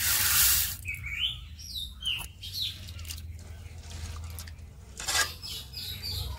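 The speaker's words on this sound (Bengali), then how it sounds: "ডালটা এবার ধুয়ে নেব।" Lentils being washed under running tap water in a kitchen, with a sustained splashing stream and swishing, while birds chirp intermittently in the background.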